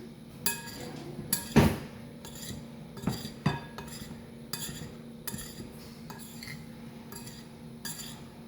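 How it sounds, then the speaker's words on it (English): A metal spoon clinks and scrapes against an old mixing bowl while tossing seasoned raw okra with salt and black pepper, giving irregular close, crisp taps and knocks with soft stirring between them. "Toss it up with a spoon."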